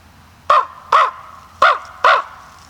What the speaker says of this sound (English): And then he saw a crow fly over.